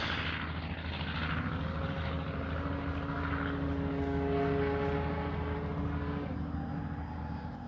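Hangar 9 J-3 Cub model airplane with a 10cc engine in flight high overhead, a steady buzzing propeller drone with slight pitch shifts as it passes, heard alone throughout.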